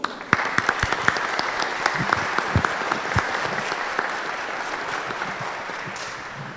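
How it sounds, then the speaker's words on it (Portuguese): Welcoming applause rises from the congregation at a Catholic Mass in Três Pontas, Brazil, scattered sharp claps standing out over a softer bed of clapping that thins toward the end. "nossas palmas de acolhida"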